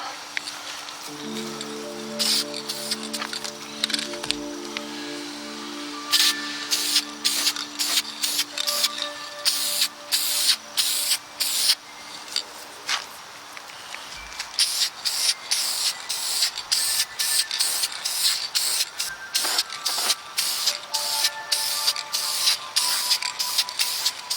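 An older aerosol can sprays cast iron colored VHT engine enamel onto a part from an F250 engine, in short hissing bursts that repeat closely in an uneven rhythm.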